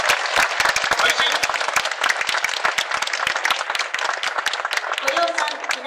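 Spectators lining a street at a Sendai festival applaud after a matchlock gun corps demonstration, dense sustained clapping from a crowd, with a voice speaking over it near the end.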